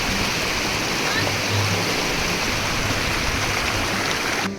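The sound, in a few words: stream water near waterfall at Madhe Ghat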